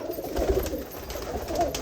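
Pigeons coo in a loft, a few soft, throaty calls standing out over a steady low background murmur, close and moderately loud.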